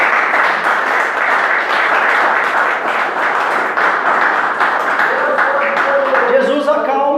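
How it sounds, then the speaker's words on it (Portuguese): A congregation claps loudly and steadily in church during a Portuguese-language sermon, and near the end a voice rises over the fading applause. "Você pode aplaudir o nome do Senhor Jesus?"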